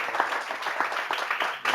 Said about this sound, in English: first a clap, no?